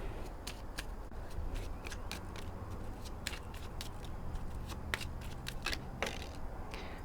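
Tarot cards are shuffled and handled close up, with a quick series of crisp flicks and riffles and soft slides of cards over a quiet background.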